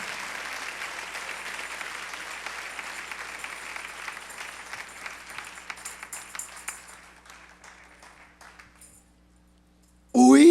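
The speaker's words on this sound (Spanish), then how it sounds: "Dale un aplauso al Señor." A church congregation applauds, with dense clapping that is loud at first, then thins into scattered claps and fades to near silence before a voice comes in at the very end.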